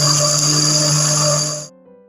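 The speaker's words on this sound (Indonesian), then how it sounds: "Sekarang kacang ini akan saya blender sampai halus." A blender grinds roasted peanuts with a steady, loud, high-pitched motor whine that runs unbroken before cutting off abruptly near the end; no one speaks.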